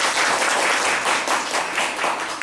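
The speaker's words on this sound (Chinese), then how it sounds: "让大家先给他们热烈掌声好不好" An audience at a talk event applauds the guests in steady, fairly loud clapping that swells and ebbs in waves, with no clear speech over it.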